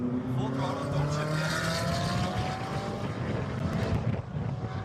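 A Lamborghini supercar in Las Vegas accelerates at full throttle without shifting, a loud continuous engine roar with rising tones and wind noise, while voices talk over it throughout.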